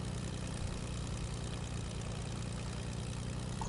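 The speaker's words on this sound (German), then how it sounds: "Ich gehe mit dem Flugzeug." An airplane engine drones in the video game Fortnite, a steady low propeller hum with even rhythmic pulsing, constant and moderately quiet, with no voices over it.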